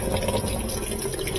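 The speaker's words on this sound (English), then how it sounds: "It kind of wets the clothes at first" A high-efficiency washing machine fills with water as it wets the clothes, a steady, loud rush of flowing water close by with no pauses or talk.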